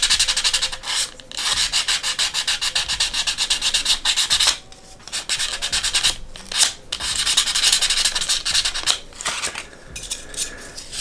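Sanding paper rubs back and forth over seams to clean and rough them up, a loud, steady rasping scrape in long strokes with a few brief pauses and no talking.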